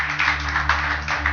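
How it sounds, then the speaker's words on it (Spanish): Congregation applauding in church, a steady wash of clapping over a low hum, brief and fairly loud. "Este aplauso a Dios, bendito Dios."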